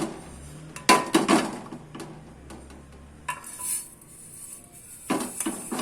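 Roasted chickpeas tipped from a pan onto a plate, with scattered clinks and scrapes of metal against the dishes in a few short bursts separated by quieter gaps.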